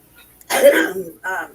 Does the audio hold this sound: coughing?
yes